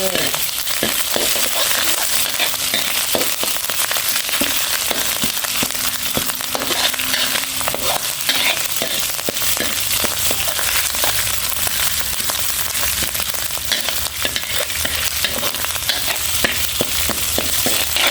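Red curry paste stir-fried in a hot pan for a Thai fried tilapia with chili sauce, giving continuous close sizzling and crackling with frequent scraping stir strokes, and no talking.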